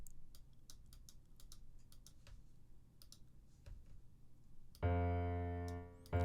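A computer mouse clicks on a note in MIDI music software, a few sharp, sparse clicks in quiet, followed by a loud sustained synth tone as the note plays.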